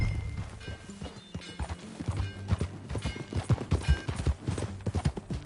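Horse hooves clip-clop on the ground in Red Dead Redemption II, a close, uneven trotting rhythm with a whinny early on, under a soft game ambience.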